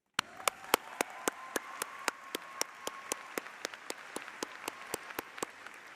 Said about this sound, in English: I ask that we give another big round of applause for today's musicians